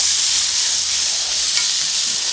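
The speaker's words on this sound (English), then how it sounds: "Listen for the sizzle." Peppers and onions sizzle loudly and steadily on a hot plate, a constant bright hiss from start to finish with no talking.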